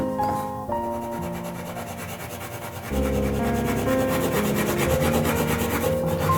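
HB graphite pencil shading back and forth across paper while drawing a cube: steady, close rubbing scratch that grows a little louder and denser partway through, with no talking.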